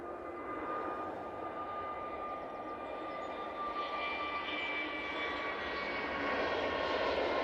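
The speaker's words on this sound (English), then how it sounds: "EasyJet A321 Neo now on the roll." An EasyJet Airbus A321neo jet rolls down the runway for takeoff at Manchester Airport, a distant, steady engine roar with a rising whine that swells slightly louder toward the end.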